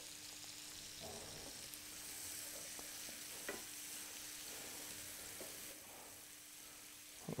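Chanterelle mushrooms seasoned with salt and pepper fry quietly in a pan, a faint, steady hiss with a few soft ticks and pops from stirring, heard close and without speech.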